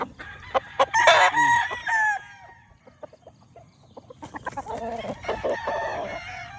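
Maklin gamefowl chickens crow loudly nearby, one long crow early and another later, with scattered clucks and short calls between.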